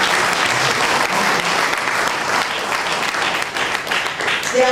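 Sustained applause from an audience at a community gathering, a dense steady clatter of many hands clapping for the full stretch at even loudness, with no speech on top.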